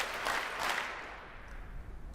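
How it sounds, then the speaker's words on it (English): A lecture audience claps together on cue at a climate talk, producing a dense wash of many hands with two louder swells early on before fading to a softer patter. "Clap 3 times if you think companies should do more."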